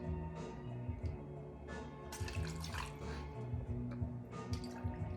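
Coconut water pours from a plastic bottle into a cocktail, making soft trickling and dripping splashes over a low steady background hum.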